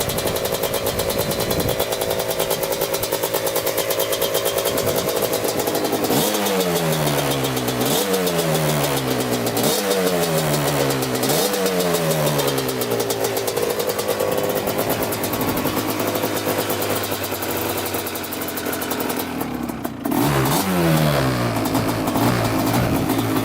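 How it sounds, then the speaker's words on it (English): A 250cc two-stroke quad engine starts, then revs in several sharp rising bursts that fall back toward idle. The sound is loud and close and runs throughout with no talking. "But I'll probably get this one started over here."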